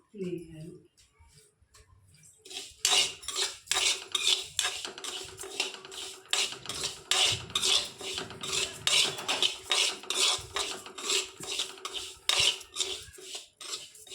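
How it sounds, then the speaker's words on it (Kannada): Fennel leaves (bade soppu), about 50 grams, stirred and fried in a pan, giving a steady crackling sizzle with repeated scraping and metallic utensil clinks close by, a spoken voice over it. "ಒಂದು 50 ಗ್ರಾಮ್ನಷ್ಟು ಬಡೆ ಸೊಪ್ಪು ತೊಗೊಂಡು ಹುರ್ಕೊಳ್ತಾ ಇದ್ದೀನಿ"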